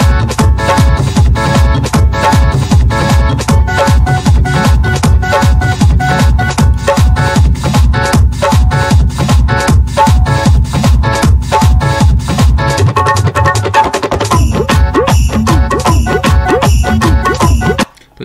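Dense, loud rhythm track of a music mix in Cubase, a steady driving drum groove under layered instruments with tightly repeating beats throughout, briefly dropping out at the end.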